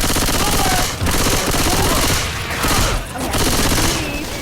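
Sustained, dense gunfire from Left 4 Dead 2, loud automatic bursts overlapping continuously with brief lulls near the first and third seconds.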